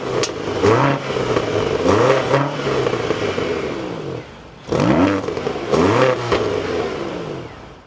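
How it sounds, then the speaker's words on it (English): A BMW XM plug-in hybrid SUV is started and revved, its engine rising and falling in two bursts of throaty revs separated by a brief lull, close and fairly loud. "inside the BMW XM, keep my foot on the brake, we can go ahead and fire it up."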